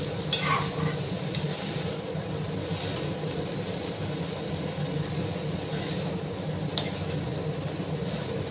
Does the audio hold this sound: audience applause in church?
no